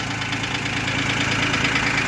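A Yanmar YM 2610D three-cylinder diesel tractor engine idles nearby, a steady, rhythmic knocking chug with even pulses and a metallic clatter, heard alone.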